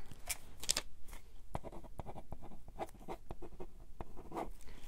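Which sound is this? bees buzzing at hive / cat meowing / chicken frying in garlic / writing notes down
writing notes down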